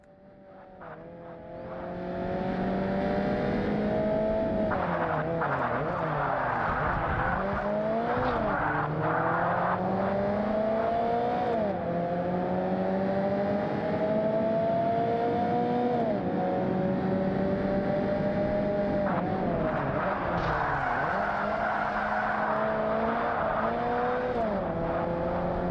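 Race car engines in a Forza Motorsport career race on an original Xbox roar continuously, loud and close, with rising and falling revs through gear shifts and no talking.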